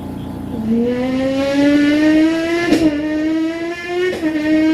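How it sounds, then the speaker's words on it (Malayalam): Motorbike racing engines whine and rev steadily, pitch climbing as a bike accelerates, with a brief sharper burst as another passes by. "പിന്നീട് റേസ് കാണാൻ പോയി. ബൈക്ക് റേസാണ്."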